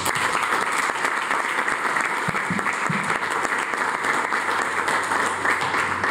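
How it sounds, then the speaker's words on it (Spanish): Sustained applause from an audience at a book presentation for a law book on inheritance, a steady dense clapping that fills the whole stretch without letting up. "la doctora Raquel Sandra Contreras López, para quien pido un aplauso."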